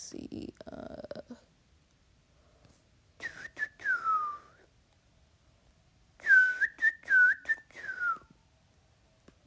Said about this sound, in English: Whistle, whistle.